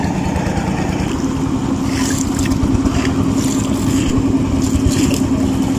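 Motor boat engine on a blue-water canal at Lala Khal in Sylhet gives a steady, close, low droning rumble with a constant hum, mixed with wind buffeting and faint water splashing throughout.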